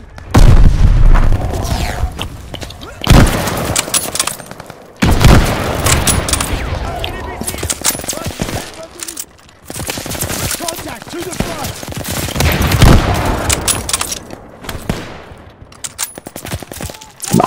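Battlefield gunfire and mortar fire in the Vanguard video game campaign: loud, dense volleys of rifle and machine-gun shots punctuated by heavy booming blasts, sustained throughout with short pauses between intense bursts.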